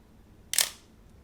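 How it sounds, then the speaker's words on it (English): Shutter firing on a Pentax K1000 35mm film camera set to 1/60 second: one crisp mechanical clack of mirror and curtain, close and loud against a quiet background, with a quick fading tail. "when we press the shutter button, the mirror pops up out of the way, then the shutter curtain opens"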